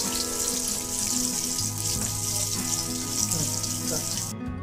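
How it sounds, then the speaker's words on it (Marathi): Peanuts roasting in hot oil in a pan crackle and sizzle steadily, with faint stirring and a low background hum, and no speech. "त्याच्यातच आपण शेंगदाणे टाकू, भाजून घेऊयात।"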